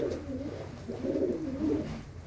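Large pet pigeons kept in pairs coo softly nearby, a low, rolling, repeated murmur of calls that stays faint and steady throughout.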